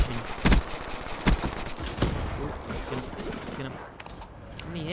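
Rapid automatic gunfire from the video game Call of Duty Black Ops 3, with a few loud, sharp bursts early on that give way to steadier, fainter shooting and game noise, and a voice speaking now and then.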